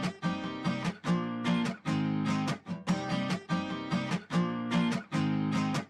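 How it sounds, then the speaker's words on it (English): Acoustic guitar strummed in a steady rhythmic pattern, polished with mixing plugins, full and bright with repeated chord bursts, alone without talk. "All of that together gives us that nice acoustic guitar sound like this."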